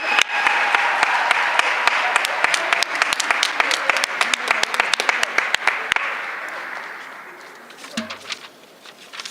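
Hall audience applauding learners at a school awards event, a dense burst of many hands clapping that thins into scattered claps and fades, with a brief voice near the end.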